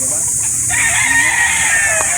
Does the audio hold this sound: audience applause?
no